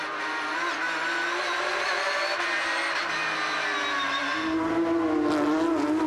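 Porsche GT3 Cup race car engine screaming at high revs on the Streets of Toronto circuit, a steady loud onboard drone with a gear change near the end and no talk.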